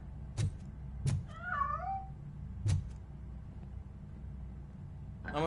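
A cat in the video game RoboCop: Rogue City gives a single drawn-out, wavering meow between several sharp metallic thumps, with another short meow starting at the end.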